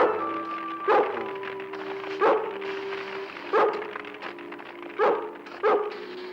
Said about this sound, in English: Good dog, Lassie